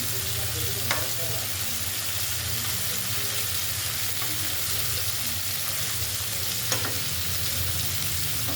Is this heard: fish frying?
yes